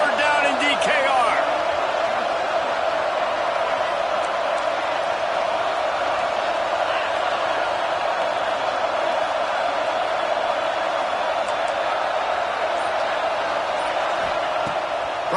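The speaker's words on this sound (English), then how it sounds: "Serious noise on third down in DKR." A stadium crowd roars loudly and steadily on third down at a college football game in DKR, a dense sustained wall of cheering and noise that barely varies.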